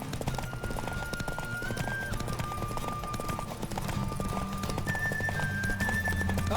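Rhythmic clip-clop of galloping hooves in The Witcher 3 over a steady game soundtrack, with occasional whinnies and a sustained tonal hum.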